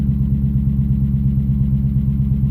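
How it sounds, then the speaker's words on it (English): A Dodge Challenger engine runs at a steady close idle with a fast, even ticking noise pulsing through the low rumble, loud and alone without talk. "Man, I hope that ticking goes away."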